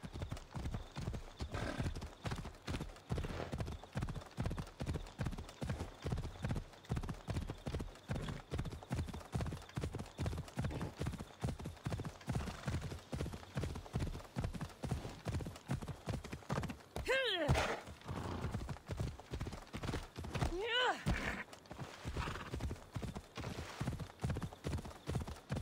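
Horse hooves clip-clop in steady rapid rhythm through Assassin's Creed Odyssey gameplay as a steed gallops along a long route, loud and continuous, with a brief whinny and occasional background game sounds.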